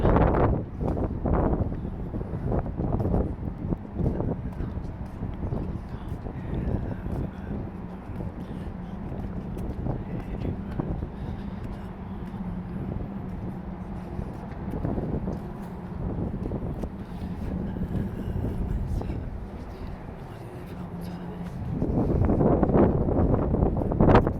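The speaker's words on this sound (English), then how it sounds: "Wind up here now, first time all evening that I felt any wind." Wind gusts rush across a microphone on an evening walk through downtown Halifax near Scotia Square, a steady rumbling buffet that swells and fades, loudest near the end.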